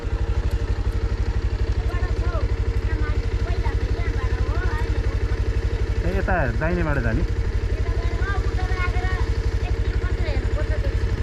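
A motorcycle engine idles with a steady low chugging throb, close by, on a hilltop road at Jure Danda in Palpa, Nepal, while a person speaks briefly over it midway.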